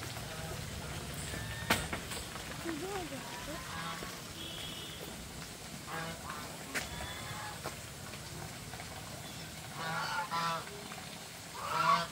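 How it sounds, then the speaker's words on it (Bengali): Geese honking in a park, several nasal calls scattered through the scene at moderate distance, with people talking nearby and light background noise. "এগুলো কি হাঁস বলো তো বাবা? রাজহাঁস।"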